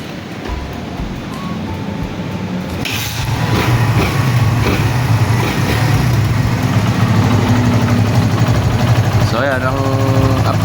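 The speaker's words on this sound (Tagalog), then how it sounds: "check natin sa tunog ng makina mga oys" A Kawasaki Barako II motorcycle engine idles steadily after a valve clearance tune-up, rising in loudness after a few seconds into a low continuous rumble, with someone talking over it.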